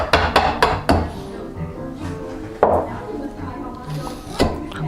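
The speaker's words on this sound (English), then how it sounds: "So just a matter of chopping them out." Sharp, close hammer blows on a chisel cutting into wood, a quick cluster of strikes followed by a couple of scattered knocks.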